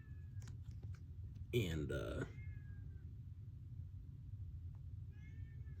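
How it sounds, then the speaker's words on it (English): A cat meows at a door indoors, one clear, fairly close meow rising over a low background hum, with a faint voice and light tapping around it. "My cat is meowing at the door right now"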